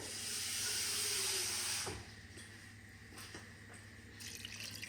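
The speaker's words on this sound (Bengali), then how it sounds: "অল্প পরিমাণ আমি জল দিয়ে দিচ্ছি।" A little water poured into a pressure cooker holding peas for ghugni: a loud, hissing rush of pouring water for about two seconds, then quieter clinks and small drips.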